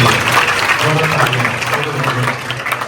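Loud, dense clapping from an audience of children at an eye-care talk, a continuous crackle of many hands with a voice speaking over part of it.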